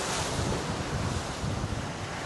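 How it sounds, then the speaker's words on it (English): Steady rushing ocean surf mixed with heavy wind buffeting the microphone, a continuous roar of water and air with no break, recorded aboard a Nautitech 40 Open catamaran in a Pacific storm with a big wave coming up astern. "There's a big wave coming up behind us here"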